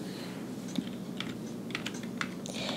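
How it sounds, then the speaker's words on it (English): Scattered keystrokes on a computer keyboard over a low background hum, soft irregular taps in small clusters while a search is typed into The Sims 4 gallery. "let's go into gallery and let's type in"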